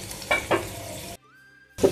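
Tandoori flatbread cooks on a hot pan with a close, steady sizzle. The sizzle cuts out briefly, then comes back.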